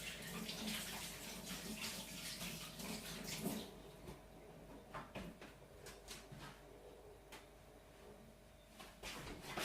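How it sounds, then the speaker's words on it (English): Tap water runs steadily while a hand is washed at a kitchen sink, with a soft rushing stream, some splashing that thins out midway, and a few knocks near the end. "I'm just going to quickly wash this other hand"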